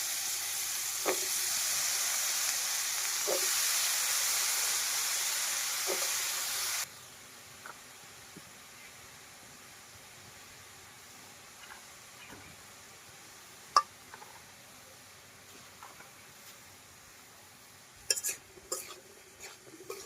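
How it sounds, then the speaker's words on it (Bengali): Sliced eggplant fries in soybean oil in a pan, giving a strong, even sizzling hiss for about seven seconds that then cuts off, leaving quiet room tone with a few faint kitchen clicks and taps. "আর আমরা এই যে বেগুনটা কেটে রেখেছিলাম আমি বেগুনটা এখন ভেজে নিব।"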